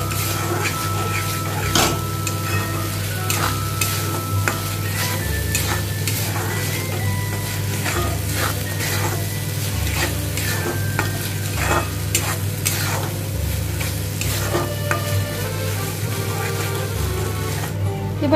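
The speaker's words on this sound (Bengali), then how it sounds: "খুব ভালোভাবে কষাতে হবে," Egg and potato curry masala cooked down in a pan, with a steady sizzle broken by frequent metallic scrapes and clinks of a spatula against the pan, close and busy, with no voices.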